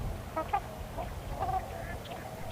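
Trumpeter swans give low, honking bugle notes mixed with higher chirps and peeps from tundra swans, a close flock calling in short bursts over steady outdoor background noise at a lake in autumn.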